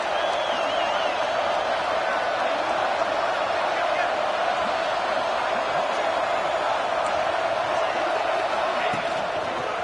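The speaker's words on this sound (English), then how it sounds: "This crowd is trying to inspire this defense to make a big red zone stop." A large stadium crowd at an Auburn football game roars steadily and loudly throughout, cheering on the defense in the red zone, a continuous wash of noise with no breaks.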